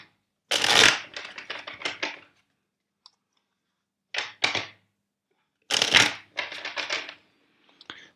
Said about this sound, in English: first I will shuffle the deck four times for you